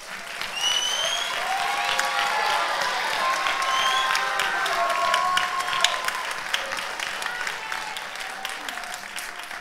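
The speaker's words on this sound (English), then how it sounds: "Can we get another round of applause?" Audience applause fills a school orchestra spring concert hall, steady clapping with some cheering and whistles over about ten seconds, with faint voices mixed in.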